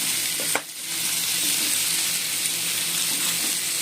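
Pork and cashew sautéing in a hot pan give a steady, loud sizzle and hiss, with a brief clatter as the food goes in, and no voices over it.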